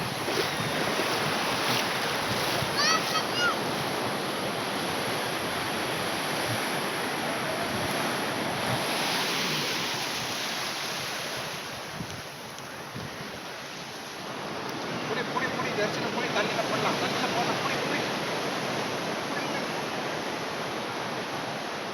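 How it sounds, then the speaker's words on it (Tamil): Ocean surf rushes and washes onto the sand at Aksha beach, a steady broadband roar that swells and briefly eases midway, with wind buffeting the microphone throughout. "வருது வருது தண்ணி வருது."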